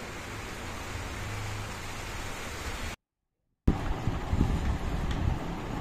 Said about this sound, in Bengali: দেখো বৃষ্টি নামলো ঝপঝপিয়ে